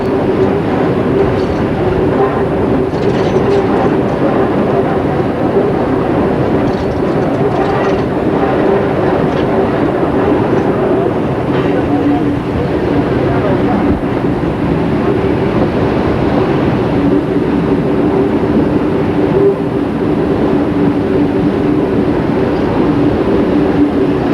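Inside a tunnel near Deep Stream Viaduct in Central Otago, a train runs with a loud, steady, enveloping rumble and a sustained droning tone, unbroken from start to finish.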